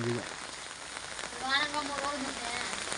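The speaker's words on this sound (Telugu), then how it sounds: "ఈ వానంగా ఎన్ని రోజులు పడుతుందో ఏమో." Rain falls in a continuous hiss over a garden, while a brief tonal, voice-like sound rises above it midway before the steady downpour carries on.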